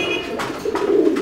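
Fancy pigeons for sale at a wholesale pigeon market coo in soft repeated throaty bursts, close by, over a steady background hum of the market.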